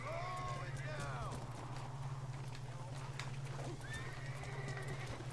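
Horses whinny and neigh in the video game Red Dead Redemption over a steady background hum, with a faint rhythmic clatter of hooves galloping underneath.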